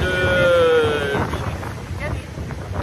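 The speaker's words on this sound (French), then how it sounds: "il y a du vent" Wind blows across the microphone in a low rumble while a person talks briefly at the start.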